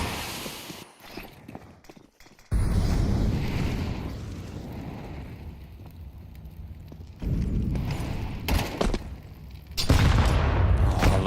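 Grenade blasts and gunfire in a Counter-Strike match at the IEM Cologne Major, heavy booming explosions hitting in loud bursts with crackling shots between them, no talk.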